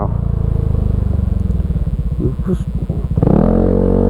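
A Honda Giorno 160 scooter engine runs at a low, steady idle-like putter up close, then the revs rise briefly near the end.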